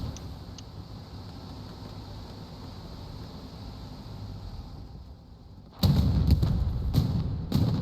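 Gunfire in a multiplayer war video game, a sudden run of loud close bursts that starts after several seconds of low background rumble.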